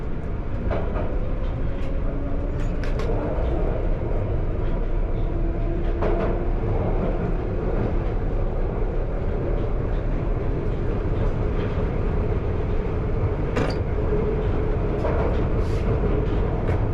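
A London Underground Piccadilly line train running near Caledonian Road and King's Cross, heard from inside as a loud, steady rumble and rail roar with occasional squeals and clicks throughout.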